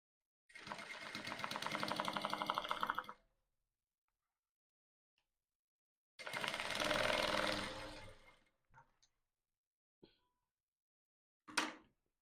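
A sewing machine stitching a corset boning channel onto a seam allowance runs in two steady bursts of about three seconds each, close and fairly quiet, with a few small clicks and handling noises between and after.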